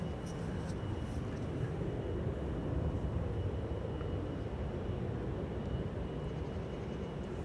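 A Boeing 777-200 wide-body airliner at Amsterdam Schiphol Airport sends out a steady, broad engine rumble that holds at an even level throughout.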